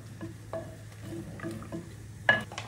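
Mutton with chili, turmeric and salt is stirred in a pot, heard as a soft low sizzle under a few spaced spoon scrapes and one sharper clink near the end.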